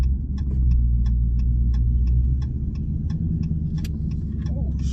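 A Dodge Charger 392 with a HemiLife44 pedal box in death mode, heard as a loud steady low engine rumble from inside the car with regular ticking clicks over it.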